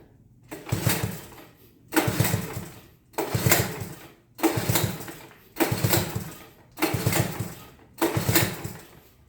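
A Honda ATC110 engine cranks over but fails to catch. A loosely fitted exhaust pipe is in place. Seven evenly spaced, near cranking bursts run about a second apart, with no talking.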